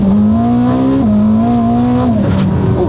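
A Ferrari accelerates hard from a standstill under launch control up to 100 km/h, its engine note rising loud and close in steady climbing sweeps, with a brief shift dip before pulling on, ending in a shift near the end.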